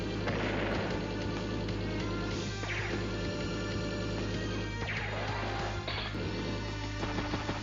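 Unit attack explosions in Advance Wars: Days of Ruin, battlecopters and infantry trading fire: dense, loud crashing blasts and booms layered over game music, with several sweeping impacts swelling every couple of seconds.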